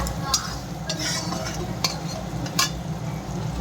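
Meat masala spice paste, cooked until red for eggplant bharta, fries in a pan with a steady soft sizzle while a utensil scrapes and stirs in several sharp strokes.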